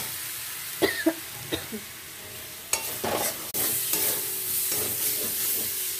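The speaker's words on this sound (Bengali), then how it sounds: "মশলাটা কিন্তু ভাজা হয়ে গেছে আর মাছের মাথাটাও দিয়ে দিলাম।" Fish head dropped into spice paste frying in a pan, a few clattering stirs and knocks followed by a sudden, steady close sizzle that keeps hissing on to the end; a brief cough or throat sound comes early.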